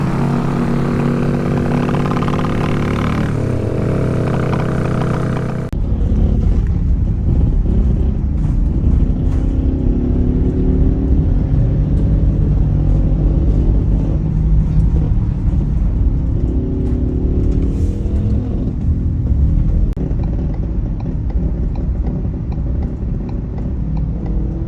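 A revived vehicle's engine drones steadily and loudly on a test ride, its pitch rising and falling with throttle changes, and no voices are heard.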